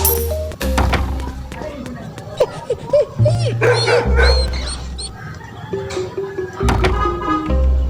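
A dog barks and yips repeatedly in the game Robbery Bob, with music and effects layered over it.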